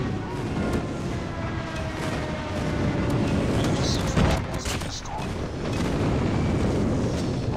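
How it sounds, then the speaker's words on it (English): Friendly airstrike explosions in the mobile shooter Call of Duty Mobile: a run of heavy, rumbling booms and blasts in quick succession, loud and continuous, with a player talking over them. "Friendly airstrike incoming."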